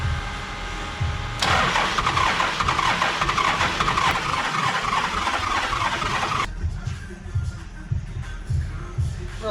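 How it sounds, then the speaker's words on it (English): Toyota 1HZ diesel engine in a 75 series Landcruiser cranked on the starter without firing, a steady churning drone for several seconds that cuts back sharply partway through, heard close up. "I'll get that cranked over now to build up oil pressure"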